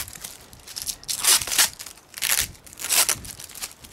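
Crinkly tearing bursts of tape being pulled off a roll, three or four rasping strips in quick succession, close by with no talking.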